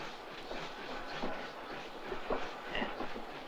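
A passenger train running on rails, a steady rumbling roll with faint rhythmic clicking of wheels over joints, heard from inside a carriage.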